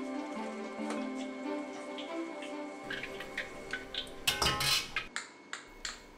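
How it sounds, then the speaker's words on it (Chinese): Battered, shelled shrimp fry in a pan of low-temperature oil, giving faint, sparse crackles and pops that grow busier toward the end, mixed with close clinks of utensils against the pan. "放入低温油锅煎炸"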